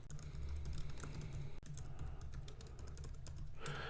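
Keys clatter on a computer keyboard in a rapid, uneven stream of close, light clicks, over a low steady background hum.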